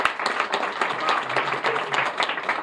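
An audience clapping at a New York City coronavirus vaccine briefing with the mayor, a short burst of steady, close applause with no talk.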